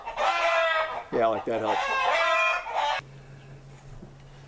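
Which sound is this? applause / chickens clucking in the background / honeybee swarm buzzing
chickens clucking in the background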